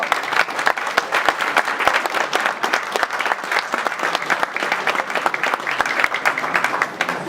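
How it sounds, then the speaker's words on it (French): A crowd applauds both boxers before the decision at an English boxing gala in Aix-en-Provence, with steady, dense clapping throughout that is close and fairly loud. "On les applaudit tous les deux avant la décision."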